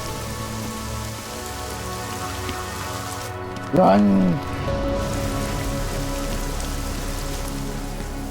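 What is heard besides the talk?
rain falling, from Deus Ex Mankind Divided video game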